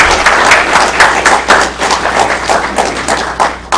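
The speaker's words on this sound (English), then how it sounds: "Let's give a round of applause to everyone." An audience at a Launchpad GVL Liftoff tech startup graduation applauds the Launchpad team, a dense, steady wash of many hands clapping close by, with brief surges and no voices over it.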